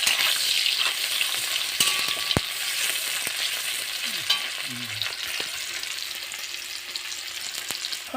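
Peas and soybean chunks with onion and spices fry in a pan, giving a loud, steady sizzle close by with occasional light knocks of a spoon against the pan and no talking.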